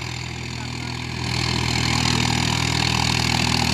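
A Swaraj 4x4 tractor's diesel engine idles steadily, then its roar rises and holds at a heavier, louder drone while pulling a plough, close by, with no one talking.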